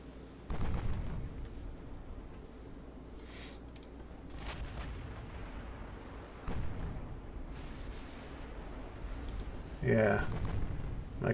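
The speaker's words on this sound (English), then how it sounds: "There's another big ship firing from way back there that must be a lot slower than this one" Battleship guns firing in the naval game Ultimate Admiral Dreadnoughts, scattered deep booms and thuds at irregular intervals, some distant and muffled, with a louder report near the end over a low rumbling bed.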